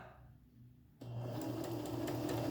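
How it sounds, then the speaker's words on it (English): A sewing machine starts up and stitches pajama bottoms, a steady motor hum with fine rapid needle ticking that kicks in suddenly after a quiet moment and continues evenly. "So ready? We're going to start sewing."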